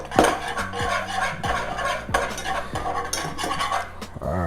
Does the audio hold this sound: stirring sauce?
yes